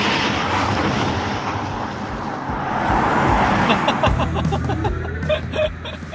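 An all-new MINI Countryman electric car pulls away hard from a stop, giving a steady wash of road and tyre noise with a rising electric whine that swells over several seconds, heard from inside the car with no talking.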